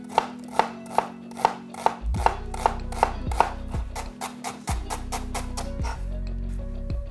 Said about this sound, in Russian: И потом нарезаем. У вас получится сразу мелкий кубик.